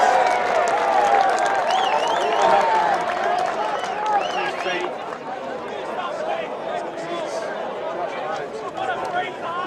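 Rugby match crowd roaring steadily throughout, a dense continuous wash of voices and cheering with commentary talking over it.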